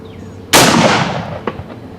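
A sporterized SMLE No 4 Mk1 .303 British rifle fires a single sharp, loud shot at a range, followed by a long echoing decay and a faint distant report.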